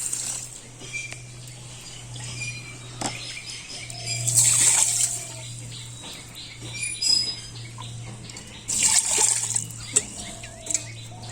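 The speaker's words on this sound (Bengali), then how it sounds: "এবার আমি চাল আর ডালটা ধুয়ে নিচ্ছি।" Rice and lentils being washed in water for village-style khichuri, with a few splashing, sloshing bursts against a constant low hum and birds chirping nearby in the background.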